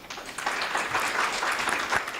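Audience applause at the opening ceremony of the 13th AKMCC, a continuous burst of many hands clapping, close and steady with slight swells, no voices over it.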